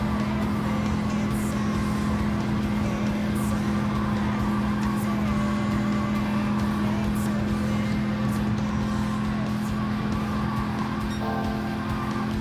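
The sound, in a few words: racing car engine in video game Gran Turismo 7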